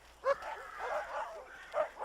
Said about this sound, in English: There were shouts and dogs barking.